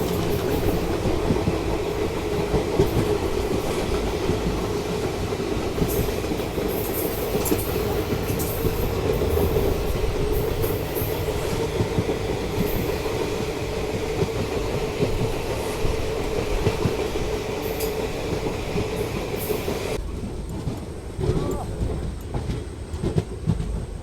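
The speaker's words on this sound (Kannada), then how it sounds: "train number 5, 6, 2 and 7 Talaguppa Shivamogga town passenger train" The Talguppa to Shivamogga Town passenger train runs steadily, a loud, continuous rumble of wheels and carriages with a faint rhythmic clatter heard from on board, heavy and unbroken throughout.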